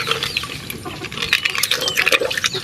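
Water pours and splashes steadily into a container to soak something hardened, a continuous bubbling, trickling wash up close with irregular plinks and gurgles and no speech.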